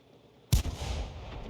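A single heavy cannon shot from the T18 HMC, a tank destroyer in a tank battle video game, bursting suddenly after near silence and leaving a long rumbling tail.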